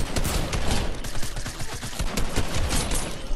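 Rapid gunfire from a video game rattles in a dense, fast string of sharp shots with uneven bursts, loud and close, no talk over it.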